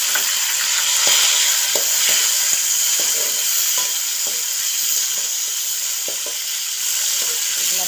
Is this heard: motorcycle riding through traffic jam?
no